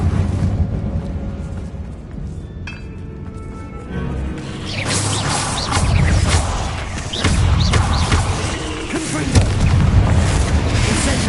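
Incendio fire spell cast in Hogwarts Legacy, deep booming blasts and crashing bursts of flame in a battle, loud and close, with other combat rumble.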